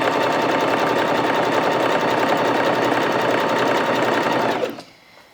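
A Bernette 05 Crafter sewing machine stitches a tight satin stitch in a fast, steady, even whir, close and loud, before stopping abruptly near the end.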